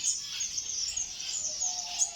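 Finches in an aviary chirp in a dense, steady chorus of high twittering calls, fairly close and unbroken, with no talk over them.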